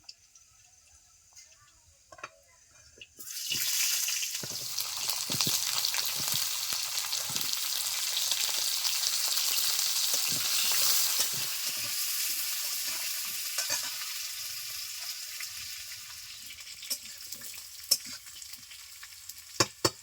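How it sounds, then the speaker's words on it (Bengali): Potatoes drop into hot oil in a wok and erupt into loud, steady sizzling and crackling that gradually settles, with a few clinks near the end. "আমি এখন এই তেলে আলুগুলোকে দিয়ে দিচ্ছি"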